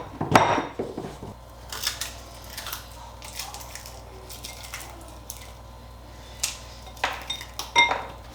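A spoon scoops honey from a jar: close, scattered clinks and soft sticky scrapes in short bursts, with no voices.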